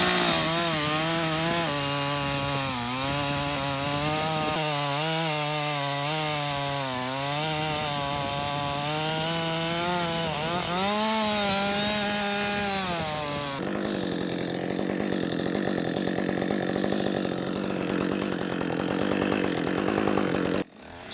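A chainsaw fitted with an Oregon EXL chain, rakers set for hardwood, revs loud and close as it cuts through hardwood, its pitch wavering under load before shifting to a rougher, harsher tone near the end of the cut.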